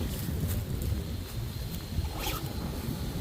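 Wind gusting outdoors beside Bear Creek on an old walking path, a steady rumbling buffet with brief swells, fairly faint and alone without talk.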